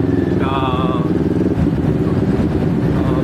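A 400cc motorcycle rides through rush hour traffic on Commonwealth Avenue, its engine a steady low drone with a voice talking over it.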